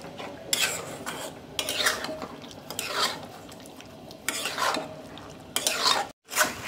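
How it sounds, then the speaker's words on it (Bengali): Goat head meat and spices are stirred in a pot with a metal utensil, making repeated rhythmic scraping strokes over a faint background sizzle, with a brief pause near the end. "এটাকে আমি এখন ভালো করে একটু মিশিয়ে"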